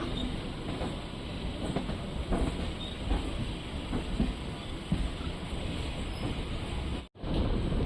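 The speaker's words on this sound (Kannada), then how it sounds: "ನಮ್ಮ ಟ್ರೈನ್ ಈಗ ಯಲಹಂಕ ಜಂಕ್ಷನ್ಗೆ ಒಳಗೆ ಹೋಗ್ತಿದೆ" A MEMU train rolls into Yelahanka Junction, a steady broadband rumble of the carriage heard from onboard with faint wheel clatter, then a brief dropout near the end before the noise resumes.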